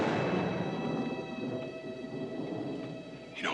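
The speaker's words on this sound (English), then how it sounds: "You know what that is? That's thunder." Distant thunder in a western drama, a low prolonged rolling rumble that fades slowly, faint and without voices over it.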